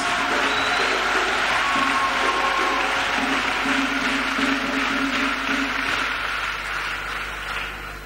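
Church congregation applauding and cheering for Jesus Christ during a testimony service, a dense, steady wash of clapping and crowd noise that holds for several seconds before easing slightly at the end.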